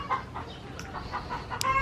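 Farm chickens kept beside beehives cluck in short, repeated calls, with a brief higher squawk near the end, fairly close over soft outdoor background, no talking.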